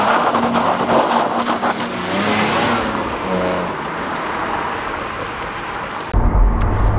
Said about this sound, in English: Okay, so driving the BMW Z4, it's a proper hunkered down roadster.